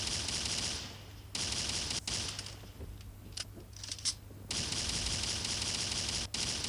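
Gunfire in the video game Zona Project X, fairly quiet rapid bursts of automatic fire with a break in the middle and a few separate shots, then sustained firing again, with no talking.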